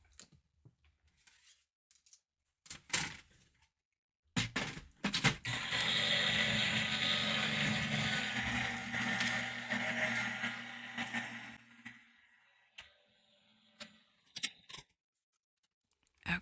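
A die-cutting machine feeding paper through for a custom postage stamp frame: a few clicks and knocks, then a sustained mechanical whir and grinding rumble lasting several seconds, then more scattered handling clicks.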